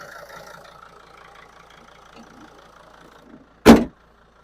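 A Mercedes riot van's engine idles with a steady, fairly quiet hum, then a single sharp, loud thud cuts in near the end.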